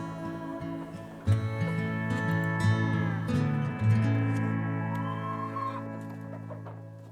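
Backyard chickens cluck and croon on wing clipping day. Several birds make overlapping, drawn-out tonal calls with a few louder squawks, close by and continuous.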